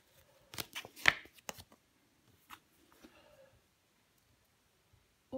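Tarot cards are handled and laid out, giving a few quick papery flicks and shuffles near the start, then sparse soft taps amid near silence.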